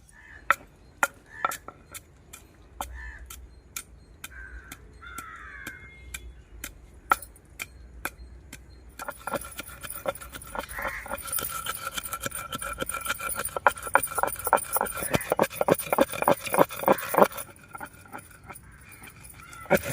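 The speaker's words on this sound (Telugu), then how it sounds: "మసాలా దినుసులు దంచుకుందాం" Whole spices are pounded in a mortar outdoors with sharp, regular pestle strikes. The blows start sparse, then become a faster, denser run. Geese honk and other farm birds call in the background.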